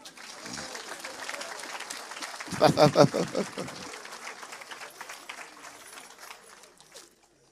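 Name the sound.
congregation applauding and acclaiming the Lord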